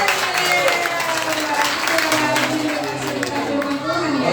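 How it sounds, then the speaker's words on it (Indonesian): Children clap their hands together at an indoor Christmas celebration, a steady patter of applause mixed with young voices chattering and calling out over it. "Tepuk tangan"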